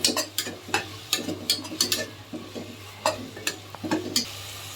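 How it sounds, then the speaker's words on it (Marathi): Masala paste fries in oil in a pan for Maharashtrian prawn rice, a low close sizzle punctuated by repeated sharp scraping strokes of a spoon stirring against the pan. "ह्याला आपण तेलासमोर मस्तपैकी भाजून घेऊया. वाटण शिजलं पाहिजे."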